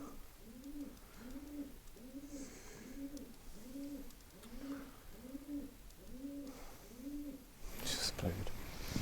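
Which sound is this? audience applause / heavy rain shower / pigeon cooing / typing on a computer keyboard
pigeon cooing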